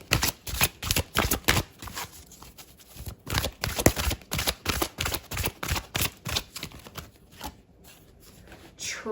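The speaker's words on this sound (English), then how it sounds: "I'm just going to be shuffling off camera" Psychic Tarot cards being shuffled up close, a steady run of crisp riffling bursts and soft slaps repeating for several seconds with brief pauses between handfuls.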